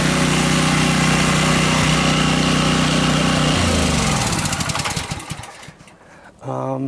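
A Sportsman 4kW dual fuel portable generator runs loud and steady with a constant engine drone, then its pitch and level shift and drop away near the end before a brief return.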